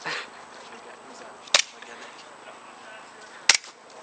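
Two sharp airsoft gun shots crack out during an outdoor game, spaced about two seconds apart over a quiet field background.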